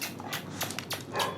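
A dog named Brownie barks and whimpers outside, a few short, moderately loud yelps and soft whines spaced across a brief moment, with no talking.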